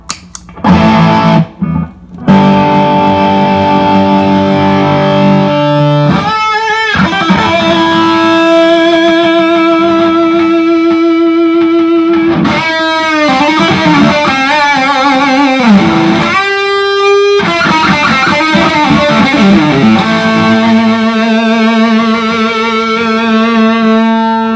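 Heavily distorted 2020 Epiphone Les Paul Standard 50's electric guitar through a distortion pedal plays loud sustained chords and bends, with brief pauses between phrases.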